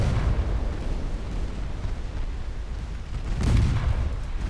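Electric torpedo hits in Ultimate Admiral Dreadnoughts, a naval battle game set in 1954 stormy seas, heard as low rumbling booms, with a heavier explosion swelling near the end over a steady dull roar.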